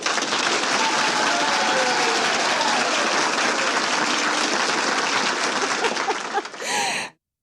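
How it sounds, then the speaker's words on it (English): A crowd applauds as a background bed for a podcast. The clapping is dense and loud, holds steady for about seven seconds, then swells briefly and cuts off abruptly. "I feel like we need some applause in the background, Andy."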